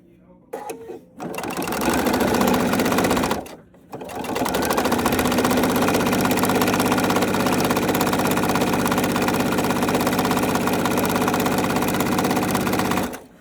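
A sewing machine edge stitching a key fob wristlet, running in a loud, steady, close mechanical whir that starts and stops briefly, then runs continuously for about ten seconds.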